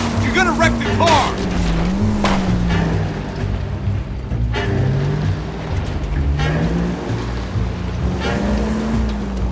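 Car engine droning through a drive in L.A. Noire, with a rising and falling pitch as it accelerates under steady road noise and brief harsh bursts; people speak over it.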